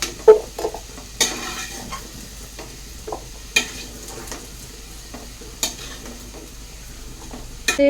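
Hot mustard oil in a pan for ghugni, with scattered sharp clinks and scrapes of a utensil against the pan over a faint low background and brief bursts of crackle.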